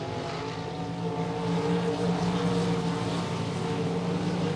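Sprint cars race around the RPM Speedway in a heat race, a steady droning engine roar with a rising and falling pitch as the field runs down the back stretch, heard from a distance without talking.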